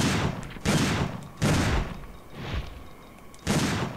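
Machine gun fire in Dino Crisis 2 comes in four or five separate loud bursts of rapid shots, each about half a second long, with short quieter gaps and a fainter burst in the middle.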